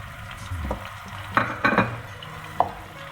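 Finely chopped onion is stirred in hot oil for minced meat and peas keema, giving a close, soft sizzle with a few sharp scraping and clattering spoon strokes.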